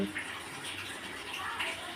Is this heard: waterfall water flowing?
yes